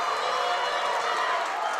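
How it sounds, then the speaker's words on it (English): Volleyball crowd cheering after a kill at an NCAA SCAC championship match, a steady broad roar filling the hall without pause. "the crowd erupting with that kill"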